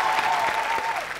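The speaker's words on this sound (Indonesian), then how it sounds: "Sekali lagi tepukan untuk peserta yang bakal beraksi" Studio audience applause on a Malaysian game show, RM 1,000,000 Money Drop, a steady dense clapping wash that sustains loudly for just over a second with a faint tonal line running beneath it.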